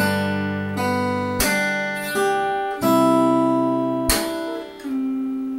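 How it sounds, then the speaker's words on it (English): Fingerstyle acoustic guitar plays a song with sharp percussive slaps on the strings on the second and fourth beats, cutting through sustained plucked notes and chords; no talking. "I will add the slap in second and fourth beat"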